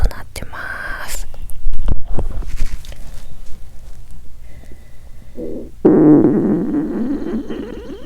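A person's stomach rumbles while they lie on their side under a warm futon: low gurgles surface amid soft breathy rustling, then swell into a long, loud, close growl near the end.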